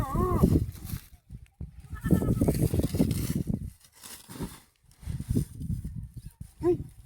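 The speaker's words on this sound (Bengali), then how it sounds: "ছাগল আছে বস্তায়" A goat tied up inside a sack bleats in short, wavering cries near the start and again at the end, close and fairly loud, with people talking in between and over it.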